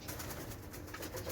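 Pigeons cooing in a backyard farm enclosure with other birds and animals: a short, faint, soft throaty coo lasting barely over a second, with low rumbling under it.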